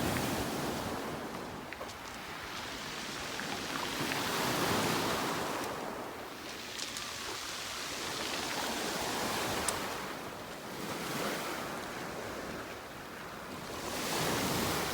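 Sea waves wash onto the shore at Palamutbükü near Datça, a steady surf rising and falling in long swells, with wind buffeting the microphone and no one talking.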